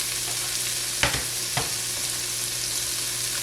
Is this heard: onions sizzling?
yes